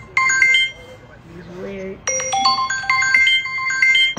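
A phone ringtone plays loud, bright melodic chime phrases in two bursts separated by a short pause that holds a faint voice.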